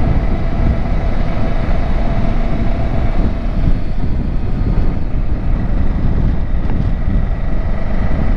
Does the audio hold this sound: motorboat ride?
yes